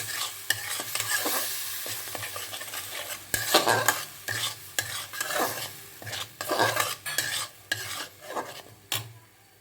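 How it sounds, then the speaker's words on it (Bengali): Green mango paste for chutney being stirred in a hot pan, repeated scraping strokes of a spoon against the metal in uneven bursts over a soft sizzle, close and clear. "আমের পেস্টটা আমি ঢেলে দিলাম। সুন্দর করে নাড়তে হবে।"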